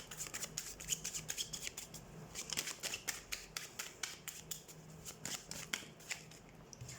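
Tarot cards are shuffled by hand in quick, steady riffling bursts, close and crisp, continuing for several seconds without talk.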